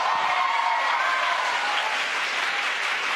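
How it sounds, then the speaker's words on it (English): Employees gathered around the Mission Control Center at SpaceX headquarters cheer and clap as astronauts return to Earth, a loud, sustained wash of applause throughout with no clear speech. "You can hear cheering here at SpaceX headquarters"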